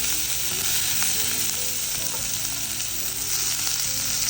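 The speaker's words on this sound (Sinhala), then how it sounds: "තෙල් එක රත් වෙද්දී ඊට පස්සේ කපාගත්ත ලුණු කරපිංච මේ දේවල් ටික දාගන්නවා." Onions and curry leaves fry in hot ghee in a pan, a loud, close, continuous sizzle with faint stirring under it and no speech.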